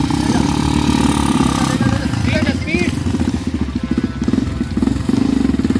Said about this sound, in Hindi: इनको बाइक चढ़ानी ऊपर।